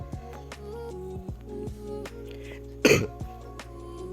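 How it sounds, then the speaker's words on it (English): A person coughs once, loud and close, a short harsh burst over steady game sounds and background music in a Minecraft Bedrock piston-door build. "I still have cough now."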